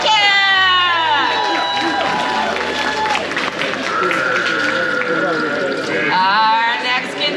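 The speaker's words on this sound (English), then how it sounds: "Let's give a big round of applause for the fabulous Miss Kit Kat!" At a pin-up contest, the crowd cheers and applauds contestant Miss Kit Kat, with clapping mixed with whoops, shouts and loud voices throughout.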